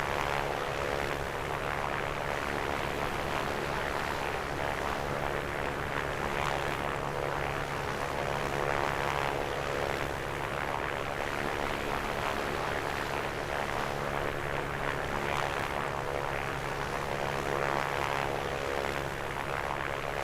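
A steady propeller engine drone from the A2A Piper Comanche in the Microsoft Flight Simulator 2024 video game runs unbroken on a night flight, a constant cockpit hum with no voices.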